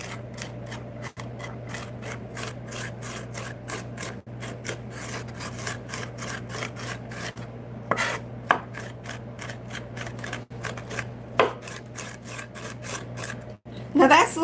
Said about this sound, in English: And then we're going to do the same thing with the onions.